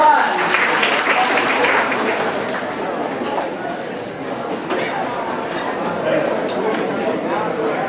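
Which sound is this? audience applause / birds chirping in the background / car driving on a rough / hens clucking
audience applause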